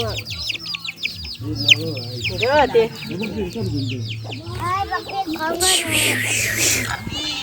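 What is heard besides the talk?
chickens clucking on a farm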